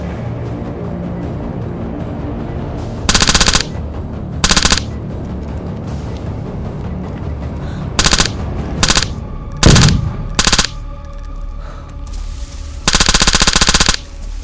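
Loud, sharp bursts of automatic gunfire in the survival game DayZ come in several clusters, some short and some sustained, over a steady background rumble with no voices.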